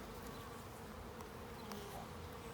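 Honey bees in a shipping package make a dense, continuous swarm buzz, a steady low drone with faint scattered clicks, heard close and alone.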